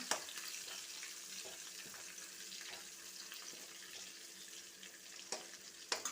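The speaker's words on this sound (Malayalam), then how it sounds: "ഇനി ഇതിലേക്ക് നമുക്ക് പച്ചമുളക് അരിഞ്ഞത് ഇട്ട് കൊടുക്കാം ഇത് ഒന്ന് പതുക്കെ മൂപ്പിക്കെടുക്കണം" Chopped green chillies frying gently in a pan for a Malabar puli curry, a steady close hiss and sizzle with a few soft stirring knocks near the end.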